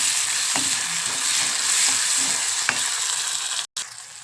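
Chopped onion, garlic and tomato sizzle in a hot pan with oil, a steady, fairly loud frying hiss broken by a few soft stirring clicks, with no voices.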